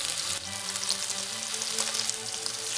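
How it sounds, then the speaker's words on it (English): Scallops searing in a hot pan make a loud, dense, continuous sizzle heard close up. "Listen to that nice little sear noise."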